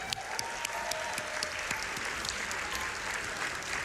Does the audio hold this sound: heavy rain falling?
no